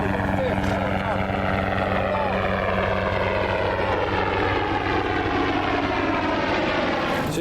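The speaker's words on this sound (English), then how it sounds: "Even a helicopter coming up with a fish." A helicopter drones steadily and loudly throughout, its engine and rotor hum constant, with voices faintly under the noise.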